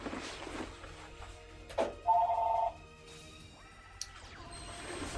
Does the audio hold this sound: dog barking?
no